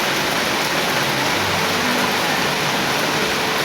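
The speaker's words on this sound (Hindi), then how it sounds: "जो बारिश हो रही है।" Steady, dense rain pouring down outside a balcony during the monsoon, a continuous broadband hiss with no gaps, fairly loud and close, heard alone without talk.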